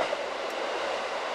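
A KiHa 40 series diesel railcar runs along the Nemuro Main Line, heard from on board as a steady, close rumbling roar with a faint rhythmic rattle of wheels and carriage.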